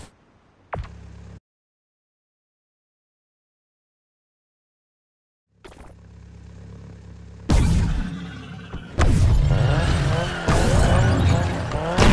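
Ford Focus RS hot hatch in Need for Speed Mobile, engine revving and tires skidding in loud bursts after a quiet gap, growing more intense toward the end with squealing layered over engine roar.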